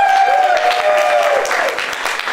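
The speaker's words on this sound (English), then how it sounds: "Everybody give yourselves a round of applause." An audience at an improv comedy show applauding, a dense and steady clatter of clapping hands that stays loud for the whole couple of seconds.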